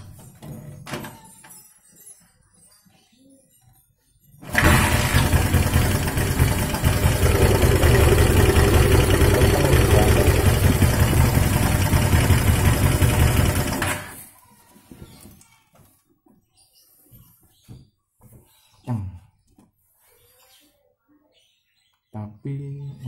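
Honda CB touring motorcycle engine with an oil cooler modification running at idle, a steady loud rumble that starts abruptly, holds for about ten seconds, then cuts off, followed by quiet shuffling noises.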